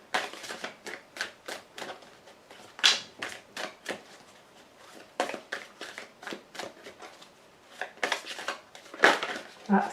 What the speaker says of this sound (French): 5 cartes vont être tirées.